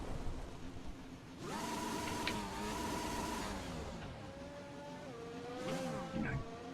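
An F1 race car in a video game runs over gravel, its engine holding a steady high whine that shifts pitch as it slows, with a rough crunching texture beneath and a brief squeal near the end.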